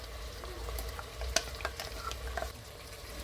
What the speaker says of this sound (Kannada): ಮಸಾಲೆ ರುಬ್ಬಿಟ್ಕೊಂಡಿದ್ದೀವಲ್ಲ ಅದನ್ನಿಷ್ಟು ಹಾಕ್ತೀನಿ